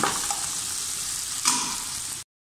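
Beef kaldereta stirred in a pot of simmering broth, a dense continuous sizzle and bubbling with a louder scrape of the spoon midway, close and steady with no voices.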